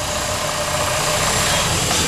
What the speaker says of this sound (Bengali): আমরা ইঞ্জিনের সাউন্ডটা আপনাদেরকে শোনাবো।